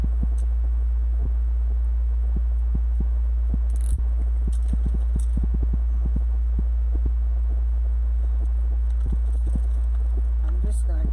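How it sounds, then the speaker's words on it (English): A household air conditioner hums in a constant, deep, unbroken drone that stays loud throughout, with scattered light clicks and taps from nearby handwork over it. "we determined it was my air conditioner"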